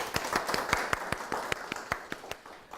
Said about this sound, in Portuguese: Palmas para o...